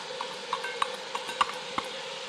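Chopped half red onion stirred into a pan of browned hamburger and mild Italian sausage for lasagna, a soft steady sizzle with small scraping clinks of a utensil against the pan.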